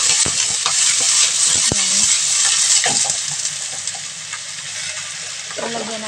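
Bok choy stir-fries in a hot pan Chinese-style, giving a loud, steady sizzle and hiss with repeated clatters of stirring and tossing throughout.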